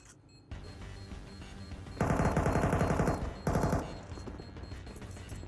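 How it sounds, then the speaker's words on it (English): A bomb detonates in a competitive Counter-Strike match on the Nuke map, a loud, dense blast lasting over a second, then a second burst, standing out sharply above quieter game ambience. "And the bomb will be going off."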